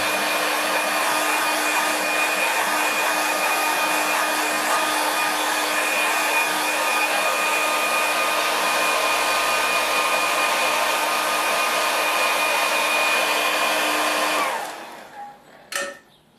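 A hair dryer blows on a watercolour painting, a loud, steady close whine and rushing air for about fourteen seconds before it switches off, followed by a couple of faint handling knocks.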